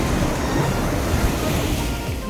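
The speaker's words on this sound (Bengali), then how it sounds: "প্রচুর হাওয়া হচ্ছে" Strong wind at a waterfall viewpoint along a mountain road, a loud continuous roaring rush with buffeting against the microphone, steady throughout with no speech.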